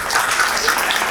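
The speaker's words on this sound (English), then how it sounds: "Give him a clap." Brief, dense clapping from an audience at a fertility and medical conference, a short even burst of many hands without pauses or voices.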